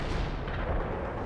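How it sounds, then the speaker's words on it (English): An artillery barrage in the World in Conflict video game rumbles steadily as a dense, distant wash of shell impacts, brief and without speech. "Artillery strike on the way."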